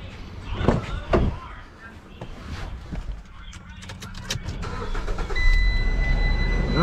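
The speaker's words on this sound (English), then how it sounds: "let's find the key and let's start the car" A car with a cooling fan fault is started with a key in a garage, its engine cranking and catching into a steady idle after a few door and handling clunks, with a high whine rising near the end.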